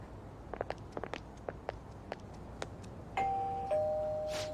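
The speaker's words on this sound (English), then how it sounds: "You ring the bell." Doorbell ringing at a house in Persona 5: after a series of soft footstep taps, a clear two-tone electronic chime sounds near and loud.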